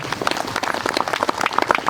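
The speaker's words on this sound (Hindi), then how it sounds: "सब ताली बजाएं यीशु मसीह के लिए" A church congregation claps in praise for Jesus Christ during a healing service, a dense patter of many hands close by, quick and irregular, with no voices over it.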